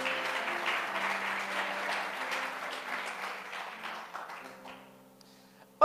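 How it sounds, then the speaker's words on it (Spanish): Congregation at a church sermon applauding, a dense wash of clapping that fills the room for about four seconds, then thins to scattered claps and fades out before a sharp knock at the end. "Dale fuerte el aplauso."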